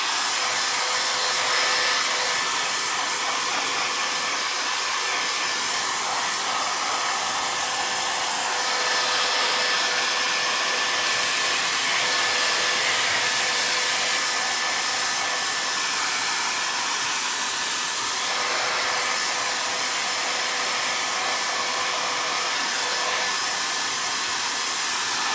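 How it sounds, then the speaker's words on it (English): A hair dryer blows steadily for about 25 seconds, drying Venetian plaster spread on burlap. The airflow stays loud and close with only small shifts in pitch, and no one speaks. "So I'm gonna hit it with my hair dryer just really quickly."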